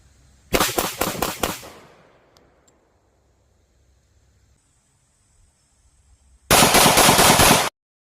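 A Smith & Wesson M&P 45 Shield pistol fires cast lead flat nose rounds at a range in two rapid bursts of several loud, close shots each, separated by a long quiet stretch.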